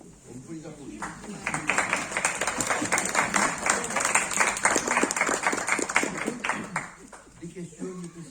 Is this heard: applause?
yes